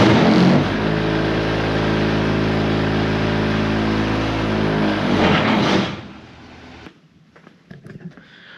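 A vibrator unit mounted on the back of a snow plow truck runs with a loud, steady low mechanical hum for about six seconds, then cuts off, leaving faint rustling and knocks.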